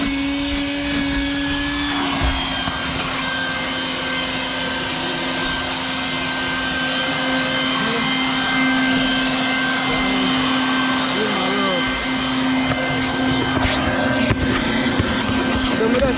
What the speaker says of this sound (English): So we just go through here now and vacuum out the car.